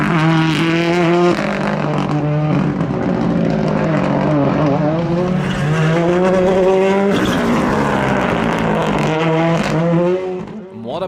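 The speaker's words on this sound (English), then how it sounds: "Giving chase is the similar Fiesta R5 with Daniel Doherty" A Ford Fiesta R5 rally car races along a stage at Shackleton during a winter rally series, its engine loud and close, revving up and down through gear changes before easing off at the end.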